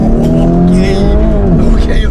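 A car engine revs and pulls away, a loud, close, rising roar with some tire noise, lasting throughout with voices faintly mixed in.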